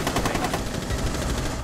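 Rapid automatic gunfire rattles in Rainbow Six Siege, a dense, loud burst of closely spaced shots running through the whole short moment with no talking.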